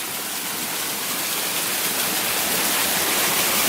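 Rushing water from a mountain stream beside a trail at about 4,000 feet on Mt Washington, New Hampshire, a steady broadband roar close by, constant and unbroken with no voices.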